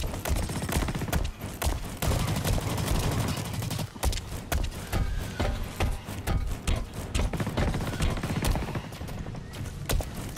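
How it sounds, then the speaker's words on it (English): Dense, rapid gunfire crackles nonstop in a Blacklight: Retribution online match, loud overlapping automatic bursts with a few sharper single shots, continuous throughout. "I'm getting shot! I need some help!"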